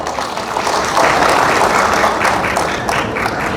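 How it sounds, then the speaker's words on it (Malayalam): An audience at a Ramayana discourse at the Ochira Parabrahma temple claps together, a dense continuous burst of applause that swells and holds close and loud for a few seconds, with no talk over it. "ഇതാദ്യമായിട്ട് കേൾക്കുന്നതാണെങ്കിൽ ഒന്ന് കൈയടിച്ചേ."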